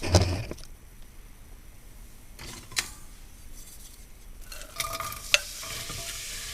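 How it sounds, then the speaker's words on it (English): Chopped onions hit hot olive oil in a pan and sauté with a soft, steady sizzle, broken by a few light clicks and scrapes of stirring, close and otherwise quiet. "So I'm just going to go ahead and add these onions."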